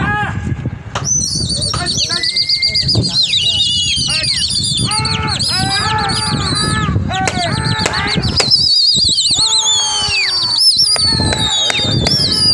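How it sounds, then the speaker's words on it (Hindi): Khalifa Zahoor pigeons in Nizamuddin, Delhi flutter and flap their wings in repeated bursts. Sharp whistles and shrill calls sound near the birds, along with occasional talk in the background. "खलीफा ज़हूर वाले कबूतर हैं निज़ामुद्दीन नन्हे भैया तालीम से"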